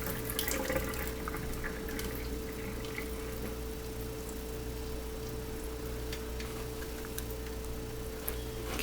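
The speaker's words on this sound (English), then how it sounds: "Okay, I'd say the pipes have been gently heated, so I can turn off my hot water." Hot water running from a kitchen tap, a steady, even hiss and splash lasting throughout, close and moderately quiet over a faint low hum, with no talking.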